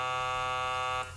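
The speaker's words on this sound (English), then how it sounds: "So wait for the buzzer." A loud, steady electronic buzzer tone holds for about a second and then cuts off abruptly, alone with no talk over it.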